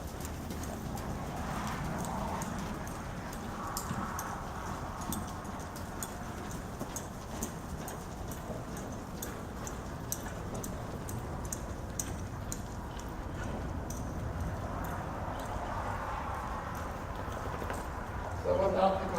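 A show horse trots with faint, steady clip-clop hoofbeats, heard at a distance against a quiet outdoor background.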